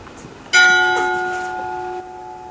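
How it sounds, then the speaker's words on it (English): A single deep bell strikes once during a stage performance of Macbeth, and its rich, ringing tone hangs in the air, slowly fading. "The bell invites me."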